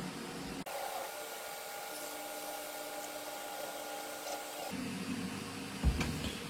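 A Creality CR10 Smart Pro 3D printer homes its axes: a click, then a steady whirring of stepper motors with tonal whine lasting several seconds, shifting and ending with a knock.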